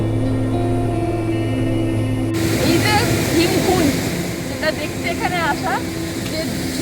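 Strong water current rushing at Bhimkund falls in Odisha, a loud broadband roar throughout; a low hum fills the opening seconds, then the rush swells, with voices and birdlike chirps heard over it.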